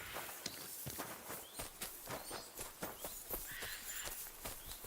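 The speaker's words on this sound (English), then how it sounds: "That's my horse." A horse walking in the video game Kingdom Come Deliverance 2, its hooves clip-clopping in a steady, regular rhythm over a soft outdoor ambience, moderately close and fairly quiet, with no one speaking.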